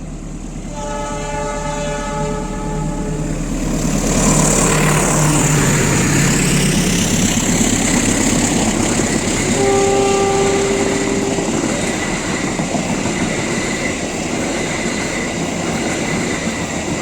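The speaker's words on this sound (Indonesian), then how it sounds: "dari arah barat terlihat ada kereta api Lodaya persiapan melintas langsung" Lodaya passenger train passing by on a double-track line between Haurpugur and Cicalengka, sounding loud, steady rumble and wheel noise, with horn blasts near the start and again midway, continuing strongly to the end.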